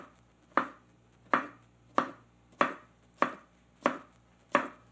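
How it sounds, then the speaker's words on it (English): A knife slices through a tomato on a cutting board in seven crisp, evenly spaced strokes, each a sharp close cut that quickly fades, with no talking. "You can still cut tomato."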